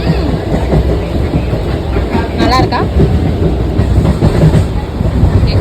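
A train rumbles steadily along the rails with a rhythmic clatter, while a person speaks briefly over the noise.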